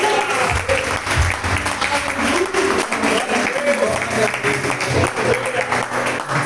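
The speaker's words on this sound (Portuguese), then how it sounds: "Dá uma salva de palmas para o Senhor Jesus." A church congregation claps loudly during a Brazilian celebration worship service, offering applause to Jesus: dense, sustained clapping with a few voices mixed in, strong and continuous throughout.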